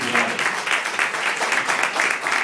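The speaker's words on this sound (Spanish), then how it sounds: "Otro aplauso para ellos." Guests at a restaurant wedding celebration applaud a couple, a full, lively burst of many hands clapping close by, steady and bright throughout without voices.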